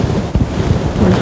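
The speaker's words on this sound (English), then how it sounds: "got a northwest wind this afternoon. It's pretty gusty out here." Gusty northwest wind buffeting the microphone outdoors on a Kansas whitetail deer hunt, a loud close rumbling roar with uneven gusts, no talk.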